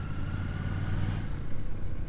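A Royal Enfield single-cylinder motorcycle drones steadily at a low pitch while being ridden, a constant engine hum with wind noise and no break.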